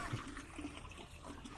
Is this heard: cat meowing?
no